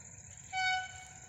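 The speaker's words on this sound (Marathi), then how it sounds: "आता बघा सहाची रेल्वे आले" A passing train's horn sounds once briefly in the distance near farm fields over low rumbling, rather quiet overall.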